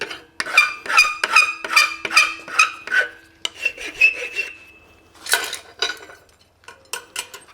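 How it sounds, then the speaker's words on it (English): A hot forged caulk-and-feather horseshoe is rasped in steady back-and-forth strokes, about a dozen rough scraping passes with metallic ringing, followed by a few lighter scrapes and taps, close and fairly loud with no talking. "now we're ready for rasping"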